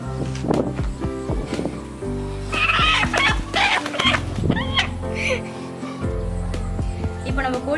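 Country chickens cluck and call close by in a rural yard, with short, irregular bursts mixed with other farm-animal bleats and a background of indistinct voices.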